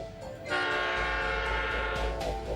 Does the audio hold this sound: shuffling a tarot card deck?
no